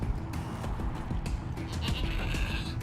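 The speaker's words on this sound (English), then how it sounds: "the goats are making such an ugly noise" Several goats in the video game Wasteland 3 bleat in a harsh, nasal chorus over a busy, continuous background of clattering and rustling noise.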